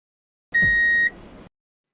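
A single electronic tone beeps steadily for about half a second with a soft thump at its onset, then a faint hiss lingers briefly before silence, as in a social conformity experiment.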